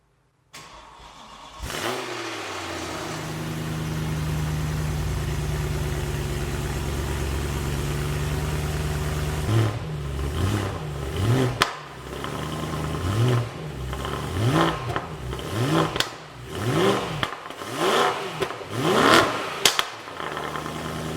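A BMW M3 E90 cranks and fires up, settles into a steady idle, then is blipped through a series of sharp, loud revs that rise and fall close by with no talking.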